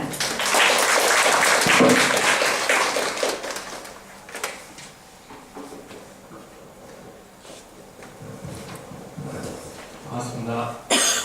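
An audience at a Korean conference session applauds loudly at the start to welcome a speaker, then the clapping thins and fades, with scattered coughs, shuffling and murmurs before a few final claps.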